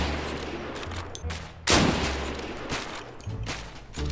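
Gunshots in the Deadside survival shooter: a few lighter pops, then one sharp, loud blast with a trailing rumble, followed by scattered quieter shots.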